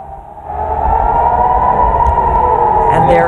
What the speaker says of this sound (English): the terrifying sound of an air raid siren